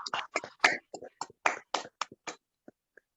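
A small audience gives sparse, separate handclaps that come in a loose irregular run, then thin out to a few faint final claps.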